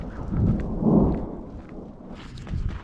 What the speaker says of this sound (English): The rain feels good, huh?